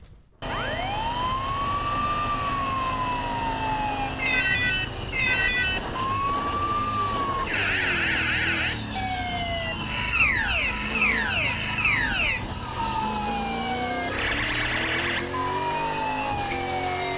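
A police car siren cycles through long rising and falling wails broken by quick warbling yelp bursts. It sounds loud and continuous for the whole stretch, with no one talking.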